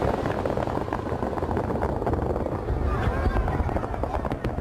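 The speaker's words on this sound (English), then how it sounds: "An extravagance of fireworks entertains the chosen few." Fireworks go off at a celebration of the leader's birthday in Pyongyang, with a dense, continuous run of crackling bursts and rumbling booms and no pause.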